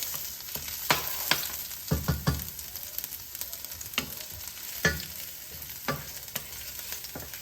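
Garlic sizzling in hot cooking oil in a home kitchen pan, with a steady frying hiss punctuated by several sharper scraping and stirring strokes, close and fairly quiet, no voices.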